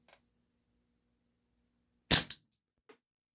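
A WE Tech Bulldog gas blowback airsoft pistol loaded with 0.12 gram BBs fires a single sharp, close report with a quick mechanical clack, bracketed by faint small clicks in an otherwise quiet room.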